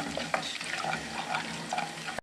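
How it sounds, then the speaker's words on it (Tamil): Fennel, cinnamon and cloves sautéing in a pan for a prawn thokku, a close, busy crackle of hot oil with a few stirring knocks. "இவ்வளோத்தையும் போட்டுட்டு 1 நிமிஷம் அப்படியே வதக்க போகிறேன்."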